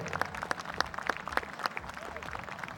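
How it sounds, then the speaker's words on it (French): Spectators at a France versus New Zealand rugby match applaud in a brief patter of distinct claps, moderately near and fairly faint, mixed with crowd murmur. "On peut l'applaudir, s'il vous plaît"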